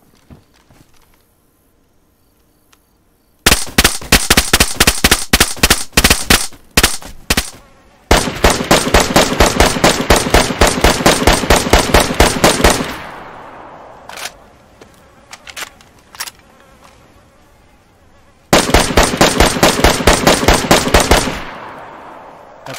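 M4 rifle fire in the survival game DayZ, loud and close, in long rapid automatic bursts separated by short pauses, with a final burst near the end and no speech.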